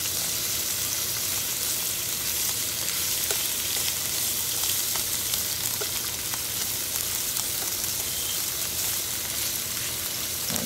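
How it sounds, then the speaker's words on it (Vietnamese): Shrimp sizzle and crackle continuously in hot olive oil in a pan, a loud, dense frying hiss with small pops and no talking. "Rồi cái dầu nóng lên, cái chảo nóng lên thì mình sẽ cho tôm vào."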